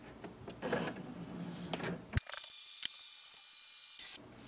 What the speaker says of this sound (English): we have to just scan this page